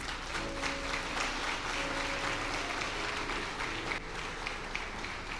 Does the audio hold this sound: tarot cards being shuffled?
no